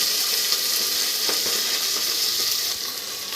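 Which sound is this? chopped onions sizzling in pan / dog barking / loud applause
chopped onions sizzling in pan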